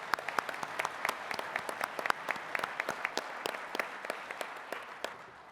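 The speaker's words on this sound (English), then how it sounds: "Can we give them a round of applause?" Applause for an Algonquin First Nations drum group from Eagle River, Barriere Lake and Kitigan Zibi at a labour conference, a steady patter of claps with sharp individual hits, fading toward the end.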